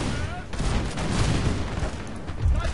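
Rapid gunfire in a strategy war video game, the player shooting at enemy infantry, a dense continuous fusillade with booming bursts mixed under game noise and a voice talking over it.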